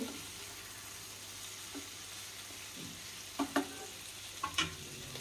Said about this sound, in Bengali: মিডিয়ামে রেখে এইভাবে 2 মিনিট লাউটাকে ভেজে নিতে হবে।